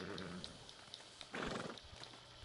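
A horse in the Red Dead Redemption 2 video game gives a short whinny mid-clip over a continuous bed of game ambience with soft, regular hoof-like taps.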